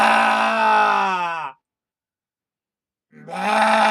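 A voice imitates a cow mooing with two drawn-out, groaning calls, each about a second and a half long, separated by a short silence. The calls are close and loud.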